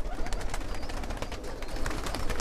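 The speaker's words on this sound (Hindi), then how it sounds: "ये देखिए दोस्तों, कबूतर अंदर के लॉफ्ट में है" Pigeons inside a loft keep up a soft, continuous cooing over dense background noise, a steady murmur with no single bird standing out.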